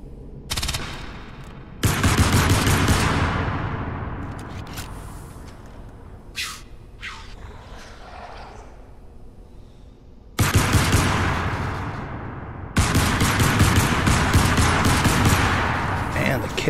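Automatic weapons fire in bursts in the Crysis Remastered shooter game, loud sustained rattling volleys that cut off abruptly and resume, with a quieter stretch of scattered shots and debris between, voice talk faintly under it.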